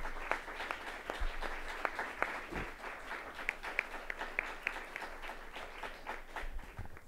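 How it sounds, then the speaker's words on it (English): Sparse, faint clapping from a small audience at a committee hearing on college campus safety, scattered individual claps rather than a full ovation, heard from a distance. "can you give those individuals a round of applause?"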